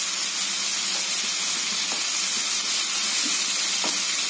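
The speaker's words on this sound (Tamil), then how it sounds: "தக்காளியும் வெங்காயமும் வந்து நல்லா வந்து வதங்கணும்" Tomatoes and onions sautéing with salt in a pan for mutton lung fry, a steady close sizzle and hiss with a few faint scrapes of stirring.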